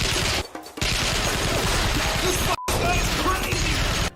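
Dense, continuous automatic gunfire roars through a hallway shootout in a Steven Seagal action film, loud and sustained with two brief drops to silence, and a voice faintly mixed in.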